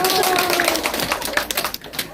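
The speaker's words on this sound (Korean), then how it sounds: "박수 한번 쳐주세요." Seniors in a volunteer group workshop at a Gwangsan-gu senior welfare center give a short burst of clapping that thins out over two seconds, with a voice speaking briefly at the start.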